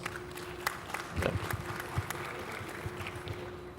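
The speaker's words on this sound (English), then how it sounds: "Big claps for Maya, please" Scattered clapping from a summit audience at a business leadership event, a light patter of hands with a few louder claps, fairly faint and diffuse throughout.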